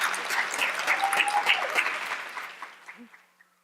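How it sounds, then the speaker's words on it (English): Audience applause at a university education honor society pinning ceremony: a brisk burst of many hands clapping, strong at first, then thinning out and fading to a few last claps, with a brief voice near the end. "Please give them a round of applause."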